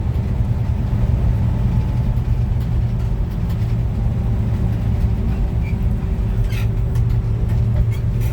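A 1966 Chevy C10 truck engine drones steadily while driving, a constant low rumble with faint cabin noise throughout.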